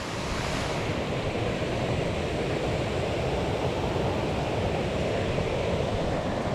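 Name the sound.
small cascade of Big Branch river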